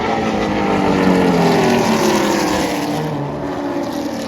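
Vintage race cars race at speed on a county track during the Firecracker 250, engines roaring in a continuous loud drone with rising and falling pitch as they pass.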